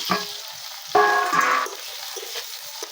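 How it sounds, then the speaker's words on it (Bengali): Potatoes, coated in turmeric and salt, frying in a pan of hot oil in a village kitchen; a burst of sizzle as they go in near the one-second mark, then steady crackling that fades back to a quieter hiss. "এই তেলের মধ্যে আমি এই আলু কটা ভেজে নিব।"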